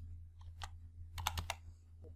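Keys tapped on a computer keyboard while entering a formula in MS Excel, a few quiet isolated clicks followed by a quick cluster of keystrokes over a low steady hum.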